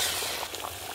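A pot of meat curry at a full rolling boil, giving a brief, steady stretch of soft bubbling and popping with no voices over it.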